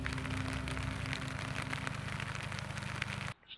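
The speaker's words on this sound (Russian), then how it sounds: "Ночью и утром шел дождь." Steady dense patter of rain on a surface during a packraft trip on the Vishera River, crackling and continuous, then cutting off abruptly near the end.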